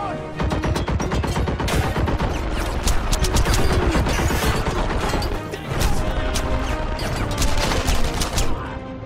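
Dense, loud gunfire in the war game Enemy Front, with rapid overlapping shots and sharp cracks that keep up almost without a pause.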